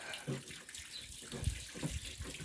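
Removed car floor mats are rinsed with water, giving a continuous close splashing and gushing with uneven surges throughout.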